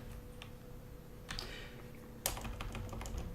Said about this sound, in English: Actually, we can type here anything we want.